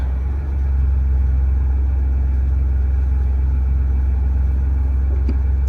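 A Ford Bronco engine idling steadily as the transmission is shifted into drive, a loud, even low rumble close by with a faint click near the end, no talking.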